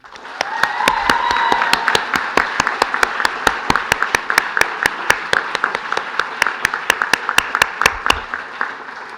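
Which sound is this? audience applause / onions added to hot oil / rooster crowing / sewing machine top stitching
audience applause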